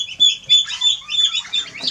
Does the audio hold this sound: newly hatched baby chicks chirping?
yes